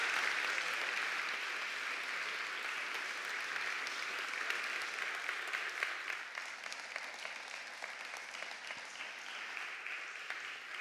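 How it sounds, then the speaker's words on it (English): An audience applauds Caroline Lucas with sustained clapping from a crowd, steady and fairly distant, slowly thinning toward the end. "Why don't you give her a round of applause?"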